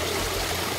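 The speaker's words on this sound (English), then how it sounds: "includes the soothing sounds of a landscape-style waterfall" A landscape-style waterfall spills beside a large heated pond-inspired swimming pool, a steady close rush of falling water with no talking.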